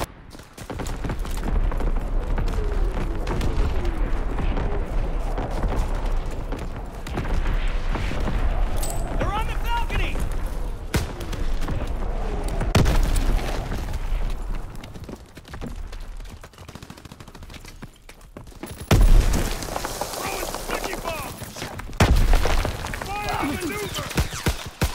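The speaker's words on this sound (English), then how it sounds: "Incoming enemy artillery! Get to cover!" Enemy artillery fire in the World War II shooter game Call of Duty WWII: sustained booming gunfire and explosions throughout, with heavier blasts crashing in near the end, loud and continuous with no voices.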